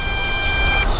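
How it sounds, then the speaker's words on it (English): Steady high-pitched electronic tone from an MJX Bugs 8 drone controller sounding its low-voltage warning, a continuous beep lasting about a second over outdoor background noise. "It gives you a beep on your controller on low voltage."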